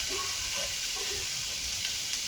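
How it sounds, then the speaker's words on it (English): Onion pieces sizzle in hot oil in a skillet while cooking Ethiopian cabbage, a steady soft hiss with faint crackles throughout, fairly quiet and without talk. "I hear some sizzle."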